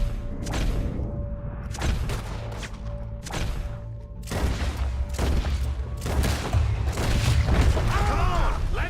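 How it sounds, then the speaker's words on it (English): Gunfire in the Red Dead Redemption 2 video game: a loud, steady run of sharp shots and heavy thuds over about nine seconds, with voices talking over the shooting. "We're shooting our way out of here, boys"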